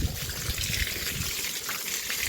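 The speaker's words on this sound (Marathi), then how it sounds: "आता जाऊया गायींच्या अंगावर पाणी मारायला." Water splashing and trickling onto cows being bathed outdoors, a steady close wash of pouring liquid with dense hiss, continuous throughout with no talk.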